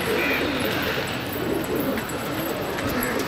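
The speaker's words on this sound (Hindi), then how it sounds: "ये हमारे कबूतर हैं" Kabli breeding pigeons cooing in soft, low, repeated calls over a constant hiss of background noise, with no talking.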